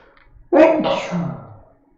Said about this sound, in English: I'm gonna sneeze right now, 1 second.